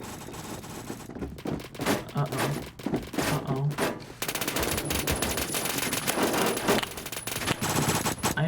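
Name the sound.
gunshots fired in a video game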